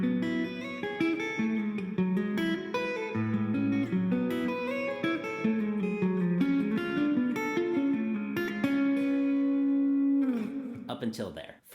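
A 7-string guitar plays the first riff of a song, a busy run of fast, clean picked notes moving across registers for about ten seconds before settling on a sustained note.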